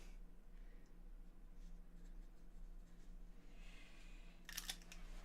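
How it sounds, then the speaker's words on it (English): A thin fountain pen nib scratches across paper in a faint, steady, close-up rasp, with a few brighter scrapes near the end and no talking. "You can hear the scratch of the thinner nib."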